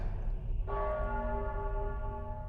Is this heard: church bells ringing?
yes